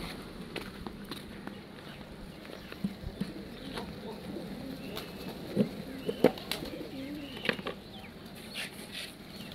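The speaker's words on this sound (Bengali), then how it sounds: "এখানে এগুলো হচ্ছে দেশি কবুতর আর এগুলো হচ্ছে লটন কবুতর" Desi and lotan pigeons at a loft on a morning feeding, soft cooing mixed with scattered footsteps and small bumps, close and fairly quiet, with a few sharper clicks midway.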